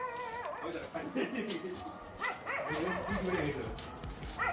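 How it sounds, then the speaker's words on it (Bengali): Several street dogs bark and yelp in overlapping bursts at a moderate distance, with voices talking among the barking. "আর সব রাস্তার কুকুরগুলো চিল্লাচ্ছে"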